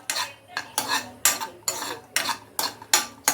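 Raisins frying in hot cow ghee are stirred in a pan, giving eight evenly spaced metallic scrapes of a utensil against the pan, each with a short sizzle, close and fairly loud with no talking.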